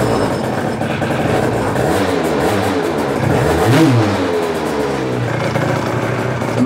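A moped engine fitted with a new internal rotor ignition starts for the first time and revs, a loud continuous buzzing drone that rises and falls in pitch through several throttle blips, close by with no talk.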